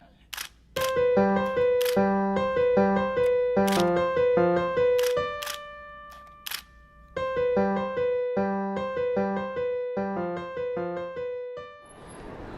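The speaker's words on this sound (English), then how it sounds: "you may hear my shutter go off" Rapid camera shutter clicks fire in quick bursts during street photography on Monroe Street, some spaced apart, with short pauses between groups; close and crisp.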